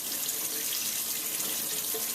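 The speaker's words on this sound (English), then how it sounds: "rinsing it under cool water just to get most of that brine out" Cool tap water runs steadily over canned ackee in a kitchen sink, a continuous close splashing stream that rinses off the brine.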